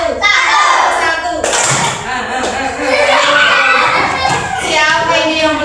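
A classroom of children claps on cue from a teacher, scattered group claps and thumps rising in short bursts amid chatter and spoken counting.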